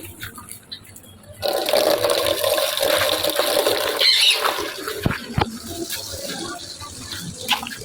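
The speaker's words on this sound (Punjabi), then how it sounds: "ਪਾਣੀ ਵਾਲੀ ਟੂਟੀ ਜਿਹੜੀ ਉਹ ਚਲਾ ਦਿੰਦੇ ਆ" A water tap is turned on at a goat farm, giving a sudden burst of hissing, splashing flow that runs steadily, with a few knocks and clatters over it.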